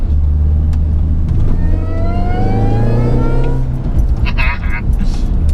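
A modified 220 bhp Mini Cooper S accelerating hard, its engine note climbing steadily in pitch for several seconds before easing off, loud and close inside the car, with a person talking over it.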